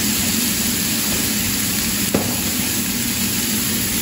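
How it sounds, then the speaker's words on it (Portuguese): Garlic sizzles in a hot pan with salt added, a steady close frying hiss with a faint stir or scrape midway, no voices. "Será o alho dourar aqui?"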